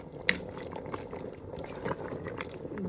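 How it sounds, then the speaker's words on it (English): Kare kare with oxtail simmering in a pot with peanut butter and shrimp paste: close, quiet bubbling and small pops in a steady, irregular patter, with one sharper pop near the start. "Boil it a little bit more, make it simmer"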